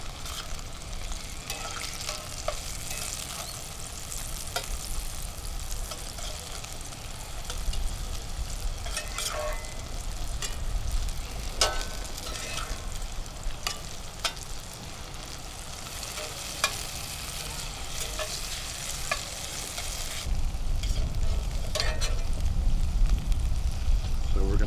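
Potatoes fry in a cast iron skillet kept over low heat, a steady soft sizzle with intermittent scraping and clinking as they are stirred, which grows louder near the end. A person's voice can be heard at times.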